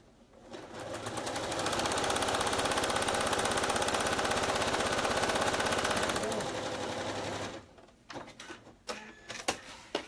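A sewing machine stitching a key fob strap runs in a steady, fast whir for several seconds, then stops, followed by a few sharp clicks and handling noises.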